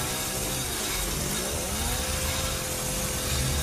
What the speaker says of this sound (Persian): با این اره قفل رو نصف می کنیم و باز کنیم